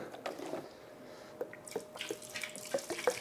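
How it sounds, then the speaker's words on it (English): Purified water is poured into a bucket of honey during a fermentation system test, producing faint splashing and trickling with scattered drips and plops against a quiet background. "Okay, we're gonna pour our water in."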